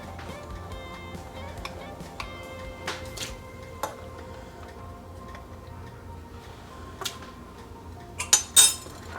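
Light clinks and taps from a tool working trapped air out of a filled jar of home-canned vegetable soup, scattered and faint, louder near the end, over quiet background talk.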